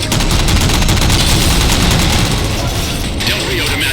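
Sustained, dense gunfire from a Halo 4 cutscene as jammers are shot down, a loud continuous rattle of rapid shots with booming impacts throughout, ending with a brief shift in tone near the end.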